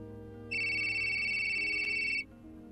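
A mobile phone ringtone rings once as a steady electronic tone lasting under two seconds, clear and fairly loud over a faint background hum.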